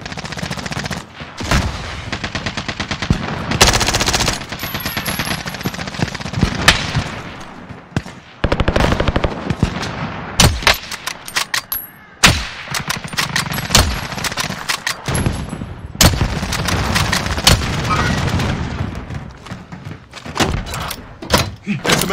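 Heavy .50 cal machine gun fire in Call of Duty Modern Warfare Warzone, loud rapid bursts repeating again and again with short pauses, mixed with other battle sounds and occasional voices.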